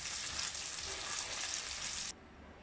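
Steady loud sizzling of chops frying in a hot pan, close by, cutting off abruptly near the end.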